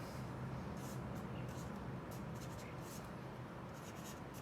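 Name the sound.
drawing a cube on paper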